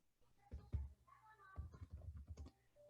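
Quiet computer keyboard typing, a brisk irregular run of soft key clicks close to the microphone, with short pauses between bursts.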